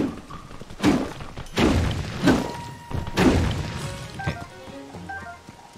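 Four heavy hammer strikes land in the video game Tears of the Kingdom, loud thuds spaced under a second apart, each followed by a crunching smash, before trailing off into scattered small clinks and debris.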